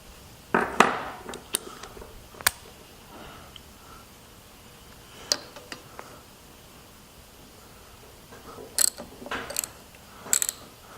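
A ratchet with a 12 mm socket loosening an injector line fitting, giving short bursts of quick close metallic clicking separated by quiet pauses and a few knocks.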